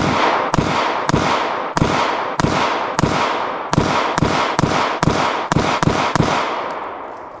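A Taurus GX4 Micro pistol is fired rapidly at an outdoor range, giving about a dozen loud, sharp shots in quick uneven bursts, each with a short ringing decay, close by and with no speech.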